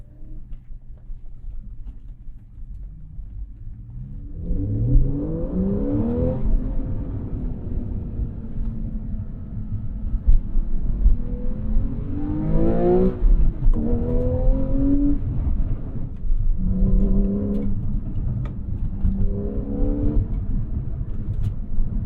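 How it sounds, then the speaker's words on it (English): A naturally aspirated Porsche 911 Carrera 4S flat-six engine rises through several revs, pitch climbing and falling in repeated sweeps after a quieter idle, loud and close with no talking. "Love the naturally aspirated howl of the Porsche Flat 6"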